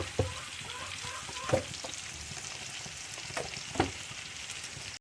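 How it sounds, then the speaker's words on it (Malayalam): Oil goes into a hot pan for an okra mezhukkupuratti stir-fry, giving a steady close sizzle with a few sharp clinks of a utensil against the pan and no voices. "എണ്ണ ഒഴിച്ച് കൊടുക്കാം"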